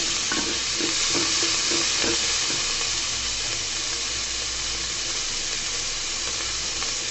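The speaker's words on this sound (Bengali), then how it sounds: "সামান্য পরিমাণে হলুদ দিয়ে নাড়াচাড়া করে দিচ্ছি। অল্প একটু ভাজি করে নিব, বেশি ভাজবো না।" Prawns with turmeric stir-fried in a pan, giving a loud, steady sizzle with scraping stirring strokes near the start, close and continuous with no talking.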